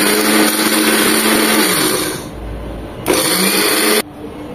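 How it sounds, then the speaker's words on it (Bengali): An electric blender grinds garam masala spices in loud, steady bursts, stopping briefly and restarting, its motor whining with a rattling grind of dry spices. "একটু পরপর ব্লেন্ড করে নিতে হবে যেন ব্লেন্ডের মেশিনটা গরম হয়ে না যায়।"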